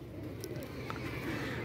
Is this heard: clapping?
no